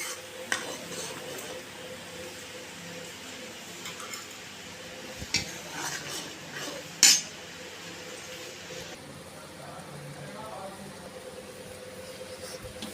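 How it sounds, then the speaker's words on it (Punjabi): Tomato paste is roasted with soybean chunks in a pan, a quiet steady sizzle under occasional spoon stirs and sharp metal clinks against the pan. "ਹੁਣ ਇਹਦੇ ਵਿੱਚ ਆਪਾਂ ਟਮਾਟਰਾਂ ਦਾ ਪੇਸਟ ਬਣਾਇਆ ਹੋਇਆ ਪਾਵਾਂਗੇ ਇਸ ਨੂੰ ਵੀ ਆਪਾਂ 10 ਮਿੰਟ ਵਾਸਤੇ ਚੰਗੀ ਤਰ੍ਹਾਂ ਭੁੰਨ ਲੈਣਾ"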